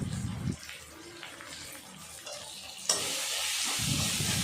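Spices such as coriander powder, cumin powder and salt being stirred in a hot pan for mung dal, a close scraping and sizzling that fades mid-clip, then a brighter hiss as a little water hits the pan.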